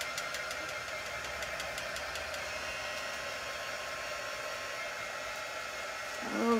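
A hair dryer blows steadily while drying transfers, a faint continuous whir held at a distance that ends with a short handling noise.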